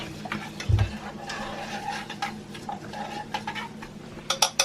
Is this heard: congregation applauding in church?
no